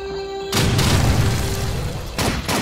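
Grenade blasts in the video game Blade of Agony: a loud, sudden boom bursts in and rumbles on with a dense crackling tail, followed by a second explosive burst near the end.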